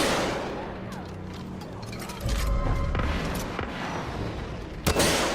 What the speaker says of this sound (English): I have cluster rocket launcher.